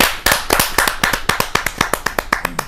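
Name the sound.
audience applause at Hindi poetry gathering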